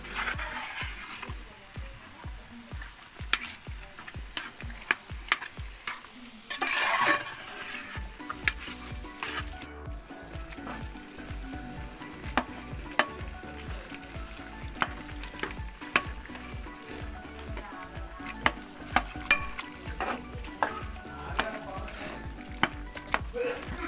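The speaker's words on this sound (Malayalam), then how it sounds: "ഇനി ഇത് നന്നായിട്ട് ഇളക്കി കുഴച്ചെടുക്കാം" Tapioca is being stirred and mashed into a pork biryani masala in a pot. A spoon scrapes in a fast, regular rhythm over a continuous sizzle, close and fairly loud, with one brief louder burst partway through and no talking.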